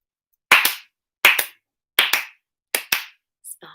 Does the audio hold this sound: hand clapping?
yes